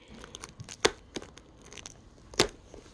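A Black Friday package torn open by hand gives quiet crinkling and rustling, broken by two sharp, loud rips, close up with no talking.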